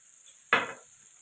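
Alexandrian-style liver is stirred in a frying pan, giving one sudden close sizzling scrape that flares and quickly fades under a faint background hiss.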